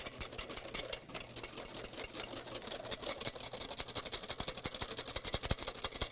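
A small motor runs steadily with a fast, even mechanical ticking, moderately loud and close, with no talk over it.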